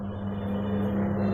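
A Singer microwave oven runs with a steady low hum and whir, an even drone with no break or talk over it.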